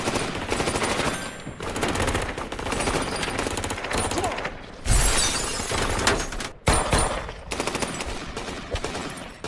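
Loud, dense gunfire from a fight scene in the John Wick action film, with rapid machine-gun bursts, crashing and shattering impacts running almost continuously and a sharp heavy burst near the middle.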